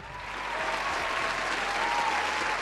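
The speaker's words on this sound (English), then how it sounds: "put your hands together for the incomparable Mr. Jay Ashton" An audience at a restaurant podcast show applauds as the host is introduced, with steady clapping and some cheering filling about three seconds at a constant moderate level.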